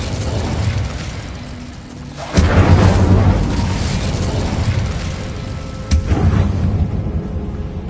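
Booming bursts from the Incendio fire spell in Hogwarts Legacy: a steady rumbling roar, one loud whooshing blast in the middle and a sharper pop near the end, with no voice.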